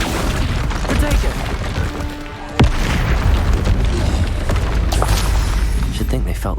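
Confringo fire-blast spell cast in Hogwarts Legacy, a single booming explosion with a sharp onset near the middle, set in dense, busy game noise with voice activity throughout.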